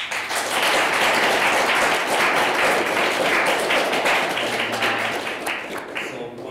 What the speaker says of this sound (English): if we could have a round of applause for our panelists